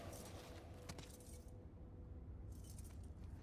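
A bunch of keys jingles and clinks faintly as someone tries different keys in a lock, short metallic rattles in bursts with a quiet pause in the middle.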